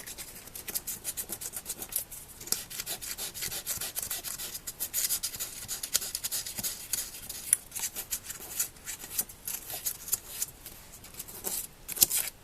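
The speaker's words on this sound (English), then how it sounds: "Not the soldering, with the sanding." Sanding of small metal parts from an electromagnet toy swing kit: a steady, close, scratchy rasping with uneven back-and-forth strokes for about twelve seconds, with no talking.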